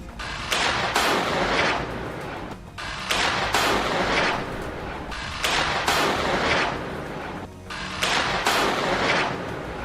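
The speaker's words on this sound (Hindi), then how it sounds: "ये विस्फोटक अपने आप फायर होने लगते हैं" Rockets launched during the Israel–Hamas war in Rafah fire on their own in loud explosive bursts, one after another in rapid clusters, each a sharp blast trailing into a rushing roar, with no talking.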